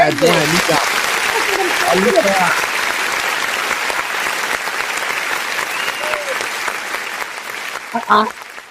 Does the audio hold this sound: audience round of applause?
yes